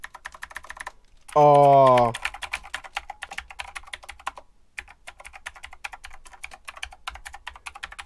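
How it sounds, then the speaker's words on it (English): Rapid clicking on a computer keyboard with unusually tall, protruding keys, steady and close, continuing for several seconds; a short exclaimed voice cuts in briefly near the start. "You guys are gonna hate when I type."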